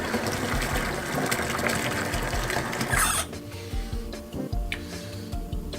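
Hot water pours and gushes into a deep fryer being cleaned, a steady splashing flow that cuts off partway through, leaving faint dripping and clattering afterward.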